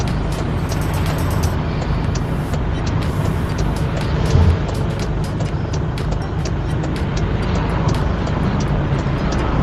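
A Kia Sorento with an automatic gearbox pulls out into traffic, giving a steady, close road and engine roar with constant tire noise throughout and no talking.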